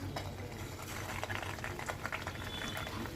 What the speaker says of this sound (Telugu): వేడెక్కిన తర్వాత అందులో మనం రెడీ చేసి పెట్టుకున్న డోనట్స్ని అందులో ఒక్కొక్కటి మాదిరిగా